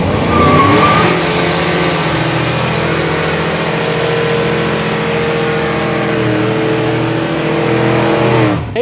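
A 700HP Exocet car engine revs hard while driving, a loud, close, sustained roar with steady harmonic drone and rising pitch early on, running alone throughout.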